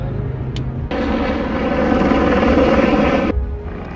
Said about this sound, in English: Got up close with these helicopters.